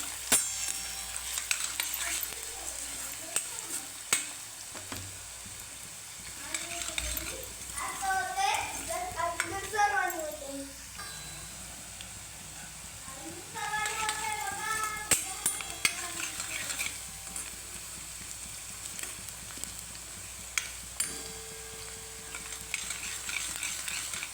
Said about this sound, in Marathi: सर्व मिक्स करायचं कांदा जरा लालसर होईपर्यंत भाजून घ्यायचा